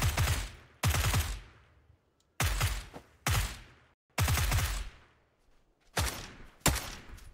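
Bursts of gunfire from PUBG, including an M416 assault rifle, ring out in seven loud, sharp volleys with short gaps between, each burst trailing off into decay.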